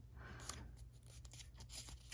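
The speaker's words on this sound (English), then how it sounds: "You can cut with the scissors." Scissors snip through paper during a craft project for a box with a secret compartment, a few faint, short cuts scattered over a low steady hum, quiet and close.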